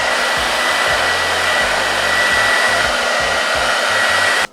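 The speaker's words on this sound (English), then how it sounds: "on high heat, okay, you're gonna pull the hair from the part really tight and blow" Hair dryer running on high heat while blow drying hair, a loud steady close whoosh with a faint whine that holds the whole time and then cuts off at the end.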